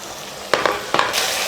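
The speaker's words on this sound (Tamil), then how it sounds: "கொதிக்க ஆரம்பிச்சிருச்சு." A covered pan of chicken curry simmers with a steady bubbling hiss, broken by a few louder pops and spits, close and continuous.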